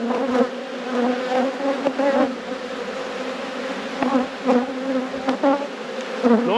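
Honeybees buzz steadily around an open hive during a frame inspection, a dense close drone of many wings with individual bees whining past the microphone now and then.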